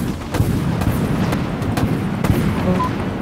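Missiles and torpedoes launching in the video game Dreadnought, a rumbling run of booming launches and sharp bursts, loud and continuous with no voices.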